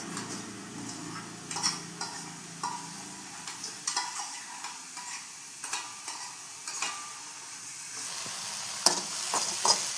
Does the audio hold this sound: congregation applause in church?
no